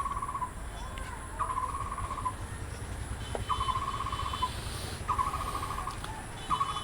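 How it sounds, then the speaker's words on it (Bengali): A flock of cockatiels is caged at the Goria bird market, where short repeated trilling calls come in regular bursts over a constant background hum. "এবারে এক ঝাঁক ককাটেল পাখি দেখতে পাচ্ছেন এখানে"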